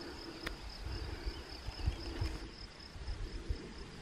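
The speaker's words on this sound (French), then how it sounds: "Hop, notre ami le grillon." Cricket chirping outdoors in the mountains near the source of the Jordanne in the Cantal massif, a faint steady insect trill over low wind and handling rumble, with no talking.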